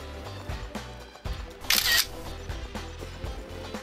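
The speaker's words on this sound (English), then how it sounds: "Wipe your face, and we're gonna take a selfie." A camera shutter clicks as two people pose for a selfie in a kitchen, one short bright burst mid-clip over background music and room noise.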